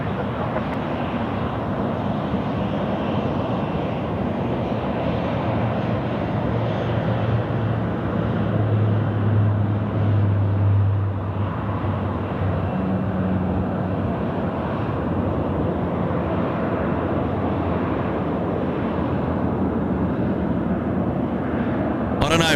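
A jet airliner rolls down runway 34 left at Sydney Airport at night, a broad steady roar of engines that swells slightly midway, with a low droning hum and faint voices mixed underneath throughout.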